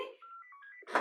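A mobile phone ringing indoors, a brief electronic melody of stepped tones that is fairly quiet, with a sharp burst of other noise cutting in at the end.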